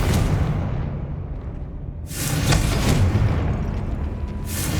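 Fiery spell blasts from the Confringo curse in Hogwarts Legacy: a deep rumbling boom, then a second heavy explosive burst about two seconds later, with another impact starting at the end over a low continuous game rumble.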